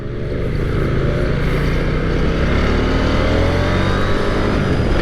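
A 2023 KTM 890 Duke R with a middleweight parallel twin engine accelerates hard, a loud, close, continuous engine roar that holds steady throughout with no talk.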